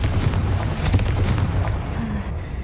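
In Hogwarts Legacy, a fiery Confringo spell blast booms and rumbles, dense and loud throughout, with a heavy explosive roar that slowly settles.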